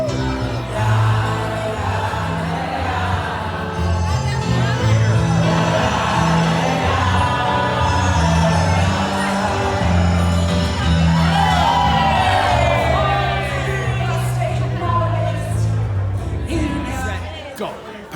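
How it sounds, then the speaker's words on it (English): A wedding crowd jumps and screams together in loud, sustained cheering and whooping, with overlapping shouts and music-like tones underneath. "Everybody always jumps and screams on 3"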